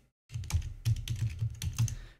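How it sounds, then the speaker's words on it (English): Fingers type on a computer keyboard while coding, a quick run of close, distinct key clicks in an irregular rhythm after a brief silent start. "you start typing in message"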